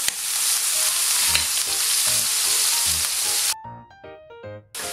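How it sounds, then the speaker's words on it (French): Onions and shallots fry in a pan with a steady, bright sizzle and some clinks, cutting out abruptly near the end, when a short run of clear musical tones plays. "on commence par les oignons et les échalotes"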